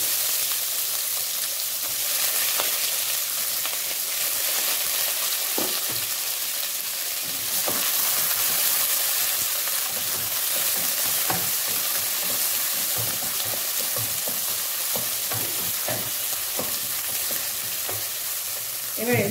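Chopped onion sizzles in hot oil with panch phoron in a pan while making a spicy tangra fish dish, a steady continuous frying hiss with occasional stirring clicks and scrapes, no talking.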